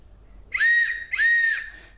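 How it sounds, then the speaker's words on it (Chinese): Two short, bright whistle blasts in succession come from a guitar-shaped whistle candy, each a clean high tone of about half a second, heard up close with nothing else around. "看来它是一个吉他造型，能吹出口哨音乐的东西。"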